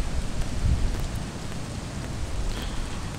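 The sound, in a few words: light morning rain by a lagoon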